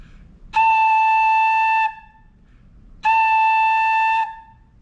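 Two long, solid tones blown on a flute headjoint alone, steady and clear at close range, separated by a brief pause, with no speech.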